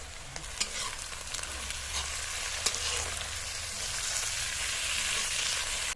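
Onion, green chilli and ginger-garlic paste fry in a pan for egg pulao, a steady close sizzle with occasional stirring scrapes and no talking.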